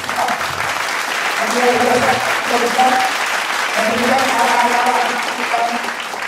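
Sustained applause from a large crowd at a religious women's gathering in Jakarta, steady and dense for the whole stretch, with a few voices rising over the clapping.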